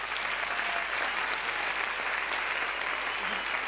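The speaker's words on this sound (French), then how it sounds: "de les applaudir" Audience in a regional science-communication finale hall applauding steadily and loudly, a dense, even wash of clapping sustained throughout with no break.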